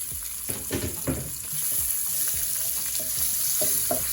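Bell peppers sizzle in a pot with leftover jerk seasoning, a steady frying hiss under intermittent scraping and stirring clatter from a utensil against the pot, close and fairly loud.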